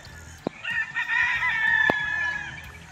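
Gamefowl stags crowing at a game farm, several overlapping crows sustained across the stretch with occasional clucks and sharp knocks, fairly close and loud.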